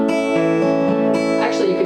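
Acoustic guitar fingerpicking with a hammer-on, playing an open-string pattern from a song, a few close, ringing plucked notes sustaining together over about two seconds, with no talking.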